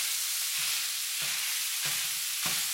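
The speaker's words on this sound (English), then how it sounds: "Try to brown up the ground beef." Ground beef browns in a hot buttered pan with a steady broad sizzle, broken by four evenly spaced scrapes and stirs of the spatula breaking up the meat, close and fairly loud with no talking.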